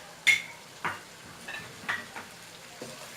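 Aloo fry, potatoes sprinkled with spice and lemon juice, mixed in a pan: a few separate scraping, clinking stirs at irregular intervals over a quiet background, with no talk.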